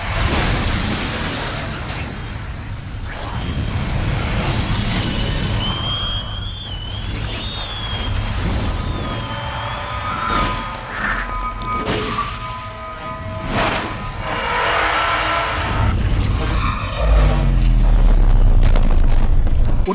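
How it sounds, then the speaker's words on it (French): Another explosion sequence from the action film Time and Tide, a long loud mix of booms, shattering debris and thuds with tonal whines and scattered impacts, building to a heavy low blast near the end. "Regardons même une autre explosion dans Time and Tide, pour les gourmands."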